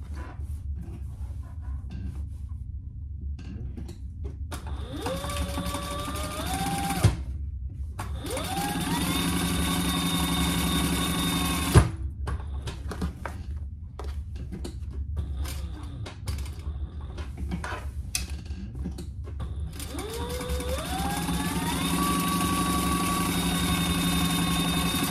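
Sewing machine stitching down both side seams of a Sheena Hobo bag, a continuous motor whir in several long bursts with short pauses, close and steady, its pitch rising as each run speeds up.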